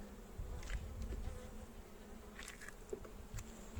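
Honeybees buzzing around a hive, a steady faint drone of many wings with occasional louder passes of individual bees close by.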